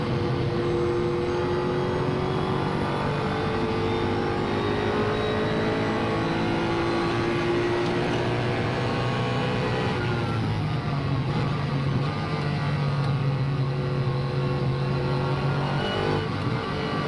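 A GT race car at the Spa circuit heard from onboard during a 2011 24-hour endurance race, the engine droning loud and steady, braking and downshifting midway, then rising again as power comes back on.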